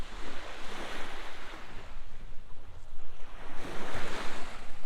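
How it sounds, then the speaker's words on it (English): Small waves wash onto a Michigan lakeshore beach in winter, a soft rolling surf hiss that swells and recedes, mixed with wind buffeting the microphone and no voices. "I could just sit out here all day long and just listen to the waves."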